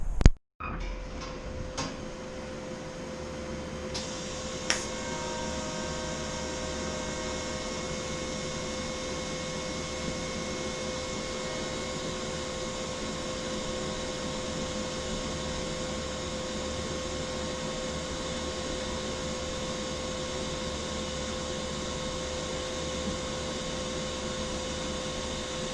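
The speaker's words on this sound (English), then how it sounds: "fire up the TIG welder and weld him up" TIG welder welding a filler neck onto a fuel tank for a Lamborghini Countach kit car in a garage, a steady continuous hiss and hum that runs unbroken for over twenty seconds after a brief start-up click.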